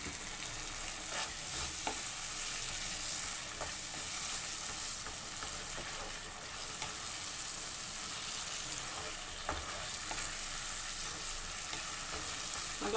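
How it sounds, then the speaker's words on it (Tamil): Tomato thokku sautés in oil in a pan, giving a continuous soft, even sizzle with occasional faint stirring ticks, moderately quiet and without talk. "நல்லா வதங்கிடுச்சு. இப்போ இன்னும் கொஞ்சம் எண்ணெய் ஊற்றிக்கலாம்."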